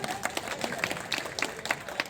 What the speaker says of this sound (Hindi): तो एक बार जरा सा और ताली बजाओ फिर से